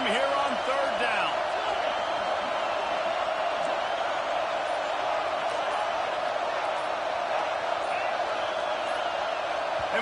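A loud, roaring stadium crowd fills a college football video game matchup against Ole Miss, a dense, unbroken wall of noise throughout, with a voice briefly heard over it.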